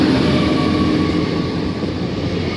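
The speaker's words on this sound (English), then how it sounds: "Here we have the Poppy train." A loud, steady rumble of a passenger train, unit 800306 from Bridgend to Swansea, passing close by, with a droning engine tone and a whining hum throughout.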